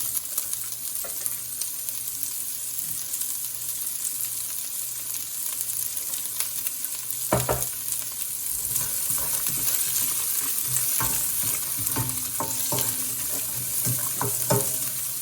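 Green chilies and broccoli stems stir-frying in a pan for an Indian-style broccoli sabzi, a steady close sizzle with occasional sharp scrapes and clinks of a spatula stirring, no voices.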